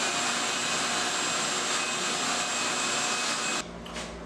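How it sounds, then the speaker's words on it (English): A shop vac roars steadily while vacuuming drywall dust out of drilled stud holes, loud and close, then cuts off abruptly near the end, leaving a quieter hum. "Shop vac is the way."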